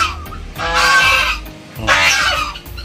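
A goose on a Philippine farmyard honks twice in loud, harsh bursts close to the microphone, separated by a short pause.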